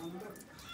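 A rooster clucks a few times at a temple offering ground, close and fairly clear, with background voices murmuring around it over under a second.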